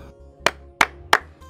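Three sharp hand claps spaced about a third of a second apart, close and crisp over a low steady hum, during a Nigerian drama scene.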